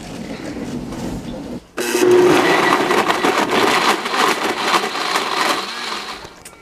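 A blender whirs loudly through a kale smoothie, starting abruptly after a brief quiet pause and running steadily with a grinding, whirring roar until the end.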